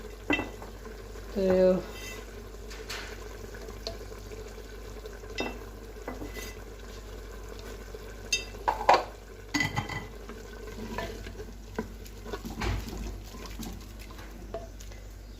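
Chillies fry in oil in a pan, a low steady sizzle with intermittent stirring clinks and scrapes, and a voice briefly heard.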